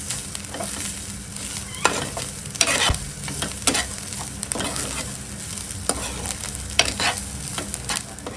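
Garlic dry-roasting in a pan in a Konkan home kitchen, stirred with a spoon that scrapes the metal in sharp, irregular clicks over a low, steady crackle, close by and without talk.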